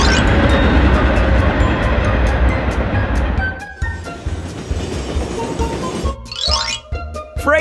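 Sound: freight train

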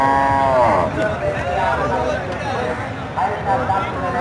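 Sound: cows mooing on a farm

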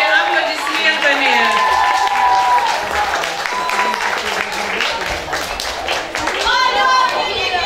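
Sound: audience applause

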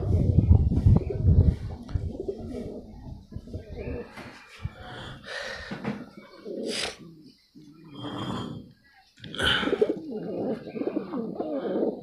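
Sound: domestic pigeons cooing

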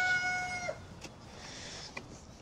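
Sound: chickens clucking

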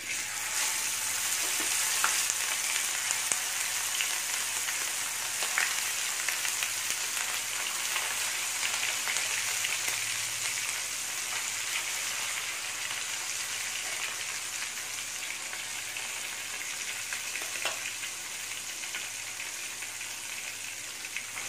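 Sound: sardines frying in hot sesame oil

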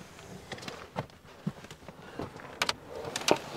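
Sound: car bed platform pushed up on gas struts

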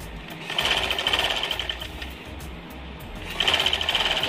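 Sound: sewing machine stitching a frilled pillow cover

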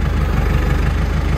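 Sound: Landini Rex 100 GE tractor engine idling, sound changing

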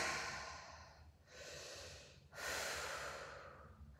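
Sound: deep breathing during a workout

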